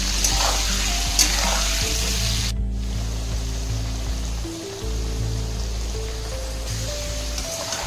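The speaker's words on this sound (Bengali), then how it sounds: "এটাকে আমি ভালো করে ভেজে নেব আলুটাকে।" Potatoes frying in a pan with turmeric, chili powder and salt, a steady close sizzle running throughout with faint stirring scrapes and no talk.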